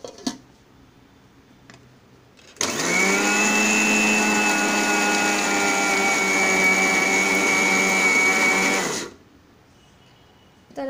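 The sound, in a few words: mixer grinder grinding peanuts and garlic cloves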